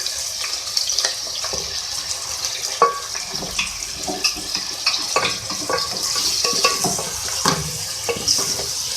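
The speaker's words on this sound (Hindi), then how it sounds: "मैंने इसको जो है भून लिया है अदरक लहसुन का पेस्ट डालने के बाद" Ginger garlic paste frying in a pan with beef sizzles continuously while a spoon stirs and scrapes in uneven strokes, close by, with a trickle of running water mixed in and no speech.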